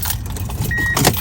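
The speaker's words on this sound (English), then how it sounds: "let me turn the keys so you can see the mileage on the truck" Ignition keys of a twenty-year-old Toyota Tundra turning in the dash, a brief jangle and click with a short electronic chime inside the truck cab.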